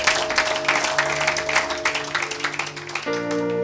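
A church congregation applauds during a Sunday worship service, steady clapping from a crowd over sustained organ or keyboard tones, with the music shifting near the end.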